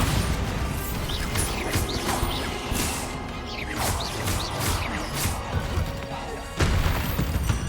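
Bombarda spell blasts in the video game Hogwarts Legacy crash and thud repeatedly amid whooshing streaks and clattering combat noise, loud and continuous, with a heavier impact near the end.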